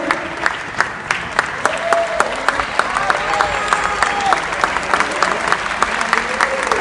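An audience at a book presentation in Casa de la Bola applauds a guest, sustained clapping with sharp individual claps standing out and a few voices murmuring underneath.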